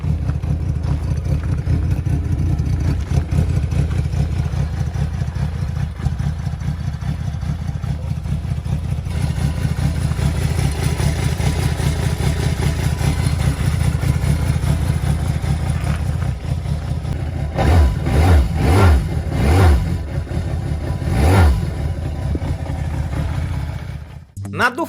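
Honda CX500 Turbo motorcycle engine running at a steady idle throughout, low and continuous, with a few sharp revs rising near the end.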